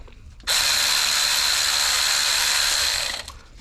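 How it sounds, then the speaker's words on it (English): An electric ratchet whirs loudly and steadily for about two and a half seconds as it removes an alternator stud on a Lexus IS300, starting abruptly and stopping near the end, with no talking. "So, got my electrical ratchet E8."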